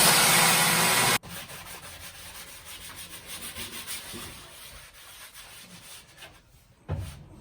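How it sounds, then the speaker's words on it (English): An angle grinder works rust off the bare metal body of a 4x4 van, a loud, steady broadband grinding burst at the start, then quieter, uneven scraping and rubbing passes with another short loud burst near the end. "I gotta continue to grind this rust off of here."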